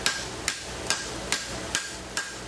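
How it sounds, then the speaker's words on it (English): Hammer striking hot steel on an anvil while forging a roadster wedge: six sharp, ringing metallic blows at an even, steady rhythm, close and loud, with no voices. "My hammer is going to come up at an angle like this to be a slope from the back."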